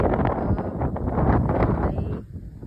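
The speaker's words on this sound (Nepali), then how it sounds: "हेर्नु न यस्तो जोरले हावा लगाइरहेछ" Strong wind buffets the microphone in a continuous, loud, rumbling roar with gusty surges, easing slightly near the end.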